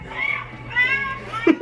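A cat meows in short, high, wavering calls close by, two or three drawn-out cries in quick succession with a brief sharper sound at the end.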